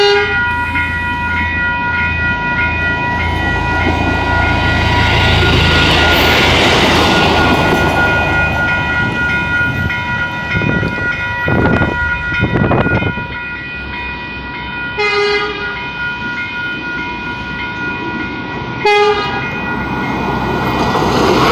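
A Standard railcar, RM 31, runs empty on a New Zealand line near New Plymouth, its diesel engine droning steadily with rail rumble, and its horn sounds twice in short bursts toward the end.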